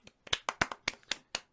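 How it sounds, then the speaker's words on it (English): Several people clapping for a moment, a quick burst of about eight close, sharp hand claps in an uneven rhythm. "So I think we should clap it up for Mikey."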